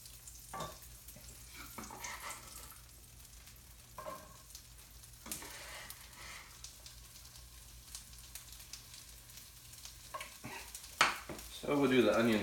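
Butter melts and sizzles in a pan on medium heat, a soft steady frying hiss with occasional utensil clinks and stirring, swelling louder near the end.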